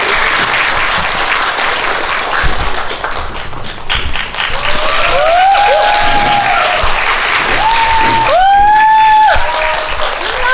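An audience at a film talk event welcomes a director and a musician guest with loud, sustained clapping and cheering, with high whoops rising above the applause midway and near the end.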